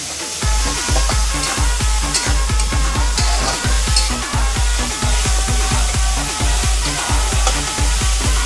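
Chopped onion sizzles loudly in hot oil in a pan for a home-style chicken gravy, with a steady crackling fry and repeated stirring scrapes in an even rhythm.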